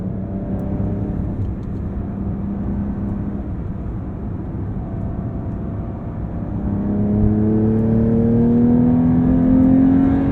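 A 2023 Porsche 911 T with a manual gearbox runs its flat-six through a sports exhaust, heard from inside the cabin as a steady hum and whir that swells into a rising rev as the car accelerates.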